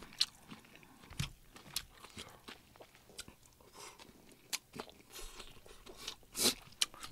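Pork belly with cartilage bits from a lunchbox wrap being chewed and crunched up close, in irregular crisp bites and grinding chews at a fairly quiet level, with no talking.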